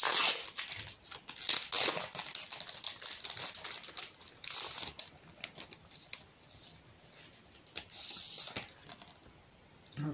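Crinkling plastic and paper packaging of a second K-pop album being opened, close-up rustles, crackles and tearing bursts in irregular clusters with short pauses, no talking.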